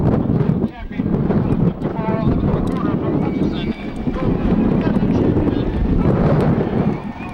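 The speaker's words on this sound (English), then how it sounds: "With, what would you say, 35, sometimes 40-mile-an-hour gust behind him?" Strong wind gusts of 35 to 40 miles an hour buffet the microphone at an outdoor high school state track meet, a steady roaring rumble that runs the whole time under a commentator's voice.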